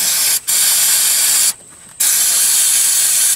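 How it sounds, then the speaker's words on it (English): Loud hissing aerosol starter fluid sprayed close up into the carburetor of a 1980 Ford van that sat unused for over 20 years, three sustained bursts with brief pauses between them. "I'm going to spray some ether in the carburetor right now."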